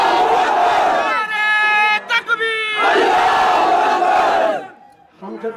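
A protest crowd of Muslims chants slogans in loud, ringing bursts at the Jama Masjid in Jagtial, rallying against the NRC and citizenship amendment; massed voices rise together, pause briefly, then surge again.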